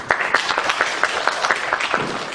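A lecture audience applauds to welcome a speaker, a moderate patter of claps with distinct individual hand strikes standing out, steady throughout.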